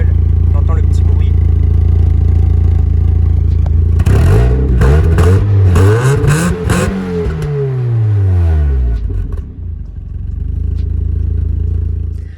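A Mazda Miata on its stock exhaust idles with a low, steady burble up close, then revs several times in rising and falling sweeps before settling back toward idle.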